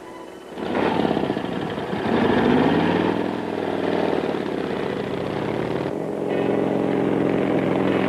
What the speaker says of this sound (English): Sounds like a motorcycle coming.